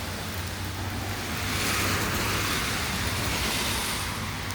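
Rain falls outdoors in a residential street between houses, a broad steady hiss of drops washing over everything, loud and unbroken from start to finish.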